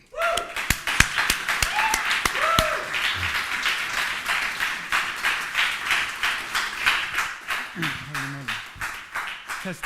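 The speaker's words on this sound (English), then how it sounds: "please give a warm applause to Jerszy" An arts audience breaks into applause for a guest speaker: sharp, separate claps at first that thicken into a steady, moderately loud round, with brief voices and a whoop near the start and end.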